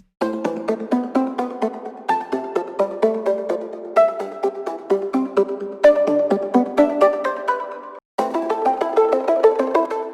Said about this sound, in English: The rolling arp, which sounds like this.